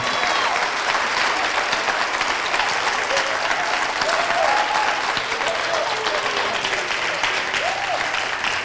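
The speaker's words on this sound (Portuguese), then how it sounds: "Dê uma salva de palmas para o mês de junho" Congregation in a church service claps together in loud, continuous applause, a dense crowd of hands with faint cheering voices rising briefly within it.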